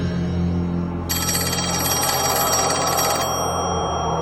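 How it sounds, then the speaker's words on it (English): An old telephone bell rings loudly in a steady, continuous trill lasting a few seconds, over a low background hum, with no talking. "the phone began to ring again, a call Philip chose not to accept."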